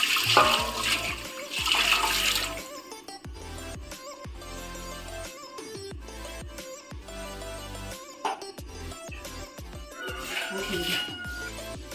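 Water pours into a pot of rice in two bursts, a splashing gush at the start and again near the end, with music playing throughout.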